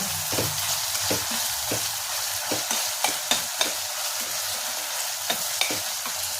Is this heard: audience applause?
no